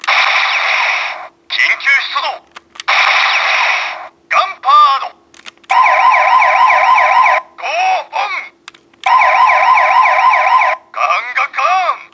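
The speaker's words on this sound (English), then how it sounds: "Now I love that being the police car, you get a gunshot and a siren out of it" A GunBir-Oh toy police car siren wails loudly and close in repeated bursts, alternating wobbling electronic tones separated by short gaps.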